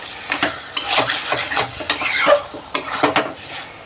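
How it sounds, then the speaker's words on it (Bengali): Chicken meat being sautéed in a pan, close spatula scrapes and stirring clatter in quick irregular bursts over a low sizzle, with a few metallic taps. "এবার মাংসের সাথে এটাকে আমি ভালোভাবে কষাবো।"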